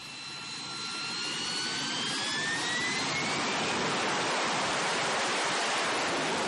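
A Harrier jump jet engine spools up with a rising turbine whine, then settles into a loud, steady, broadband roar that fills the rest of the clip.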